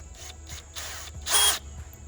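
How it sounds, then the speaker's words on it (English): A power drill bores a 7/64 pilot hole into a Jeep Wrangler tailgate cover in several short whirring bursts, the last one louder and longer, with brief pauses between them. "So that's just gonna drill the pilot hole"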